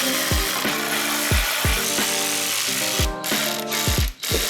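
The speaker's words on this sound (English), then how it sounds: "Kind of just use the ratcheting tool to use it as a semi-drill" A ratchet wrench clicks in quick bursts while removing bumper nuts, each stroke a rapid run of metallic pawl clicks, repeated steadily and close by.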